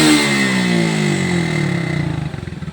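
A Honda XRM 125 carburetor motorcycle engine, with a smoking exhaust, revs up close and loud, then the pitch falls as the revs drop back into a throbbing, pulsing idle.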